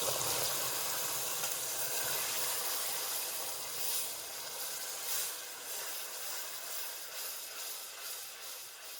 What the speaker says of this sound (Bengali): চিনিটার ক্যারামেল হয়ে গেছে এর মধ্যে আমি দিয়ে দেবো ভিনিগার